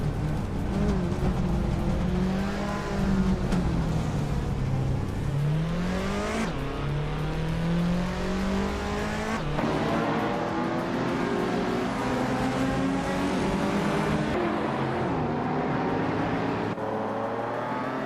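Race cars in a video game roar continuously, engines climbing in pitch through gear shifts and dropping back, loud and steady with overlapping motors and no voices.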